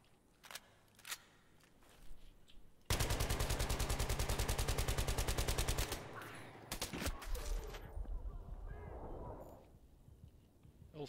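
Rapid automatic fire from a SCAR-L rifle in a first-person shooter game, a loud sustained burst of about three seconds in the middle, with scattered single shots before and after and some voices.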